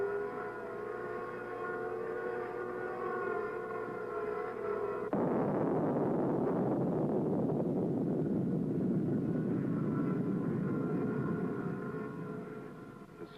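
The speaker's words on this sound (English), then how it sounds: "The buzzing sounds over the earth noises are from helicopters flying overhead." Geophone recording of an underground nuclear explosion: deep rumbling earth noise with a steady buzzing drone from helicopters overhead, continuous and fairly loud, shifting to a broader roar midway.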